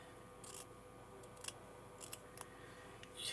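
Scissors snip through recycled fabric scraps for crazy patchwork, several short crisp cuts in an uneven rhythm against a quiet room, close and faint.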